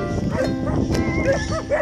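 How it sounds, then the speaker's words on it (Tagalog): Stray dogs bark repeatedly at a sheep pasture while guarding the flock, with several close, overlapping barks standing out over the rough outdoor background. "May mga askal na aso na tumatahol, guarding the sheep."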